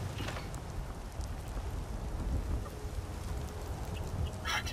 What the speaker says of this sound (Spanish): está lloviendo. Hace mucho que no veía llover aquí.